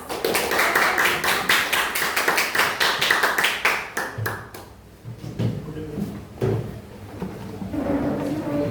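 A class audience at a senior high school claps in steady rhythmic applause for about four seconds, then the applause dies away into quieter room noise with a few scattered knocks and shuffles.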